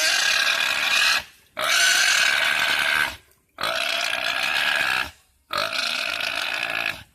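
A pig in Quezon makes long, loud, rasping grunts in four drawn-out bursts separated by brief silences, close by and harsh.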